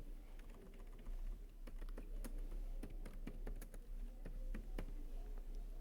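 Steady typing on a computer keyboard while entering details into a web form, with dense, irregular key clicks continuing throughout, close and moderately quiet, with no voices.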